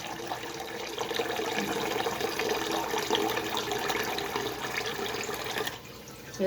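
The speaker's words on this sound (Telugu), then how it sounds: "ఇన్ని నీళ్ళు పోసాను నేను" Water pours steadily into a pot for several seconds, a close, even splashing rush that drops away near the end, with no voices.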